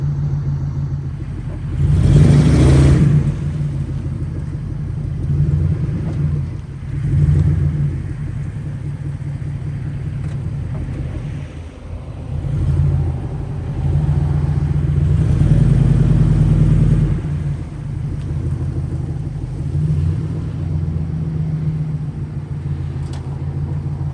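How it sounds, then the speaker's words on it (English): A Lincoln Town Car engine revs hard while the driver tries to smoke the tires. A deep, loud, close rumble surges in several rising bursts over a steady idle, with no talk. "Now the real question is, will it smoke the tires?"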